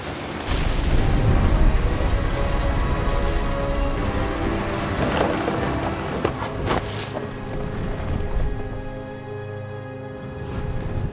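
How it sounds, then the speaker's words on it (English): Heavy rain pours steadily in the video game What Remains of Edith Finch, with a few sharp rumbles of thunder breaking through near the middle of the downpour. "The thunder sounded much too close and full of angry power."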